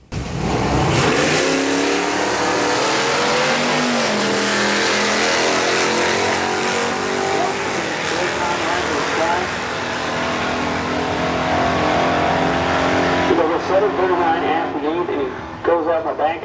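A naturally aspirated truck with an automatic transmission makes a drag strip pass at Midwest Drag Week, its engine roaring loudly as it accelerates through rising gear shifts, staying strong before easing off near the end, with talking over the engine noise.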